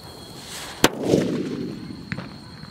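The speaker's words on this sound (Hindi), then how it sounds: "बड़े वाले बुलेट बम की टेस्टिंग करते हैं" A Two Rose bullet bomb firecracker detonates with one sharp, loud bang that rolls off into a rumbling tail, followed by a smaller distant pop shortly after, outdoors during Diwali cracker testing.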